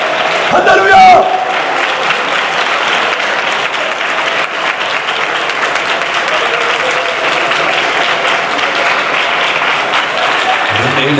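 A church congregation at a morning fasting prayer session claps loudly and steadily for about eleven seconds, with voices praising and speaking throughout.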